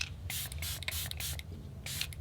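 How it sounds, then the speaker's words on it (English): Glow Unlock makeup setting spray is misted in several quick hissing bursts, close and fairly quiet, with short pauses between the sprays. "I got this Glow Unlock setting spray"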